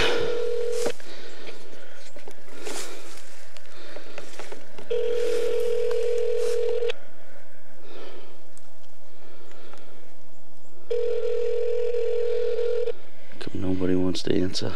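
A phone call placed on speakerphone plays back repeated ringback tones with pauses between them, along with a short burst of dialing tones at the end, loud and near, with people talking over parts of it.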